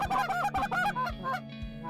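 A flock of geese honks in rapid overlapping calls, loud and fairly close, over a hunting spread with decoys, the cries coming in quick uneven bursts with no talk.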